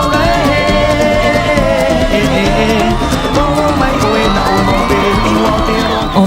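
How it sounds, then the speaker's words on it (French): Immense crowd packed on Matira beach in Bora Bora waiting for arriving racing canoe rowers: dense continuous babble with cheers and whoops, steady and loud throughout. "À Bora Bora, sur la plage de la pointe Matira, une foule immense attend les rameurs depuis des heures"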